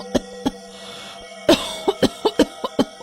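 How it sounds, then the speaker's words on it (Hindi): A person sick with fever coughs about nine times in sharp, harsh bursts: two early, then a rapid run of wheezy coughs close to the listener, with no talking. "पर खांसी ने तो सांसें ही उखाड़ दी।"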